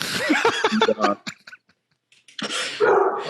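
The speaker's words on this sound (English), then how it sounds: "I think your laugh got my dog going" A dog barks and whimpers in short bursts close by, followed by a pause and then more vocal noise, with laughter mixed in.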